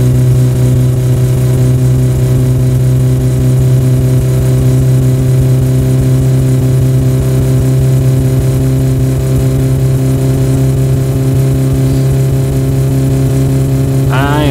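A car engine in the driving game My Summer Car runs loud and steady with a droning, harmonic hum, sounding down on power, and one rising rev bursts in at the very end.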